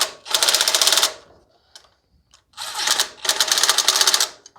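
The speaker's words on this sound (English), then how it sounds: "Upside down screw gun, engage." Screw gun driving screws into a Briggs and Stratton Nikki carburetor, two loud close bursts of rapid ratcheting whir separated by a short pause with faint clicks.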